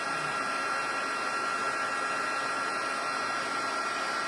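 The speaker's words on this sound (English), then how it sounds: "once your embossing gun is warm, it usually goes much faster the next thing that you emboss" A heat embossing gun blows hot air over a Christmas card in steady, even whooshing noise, alone and fairly close, with a constant tone that holds throughout without breaks.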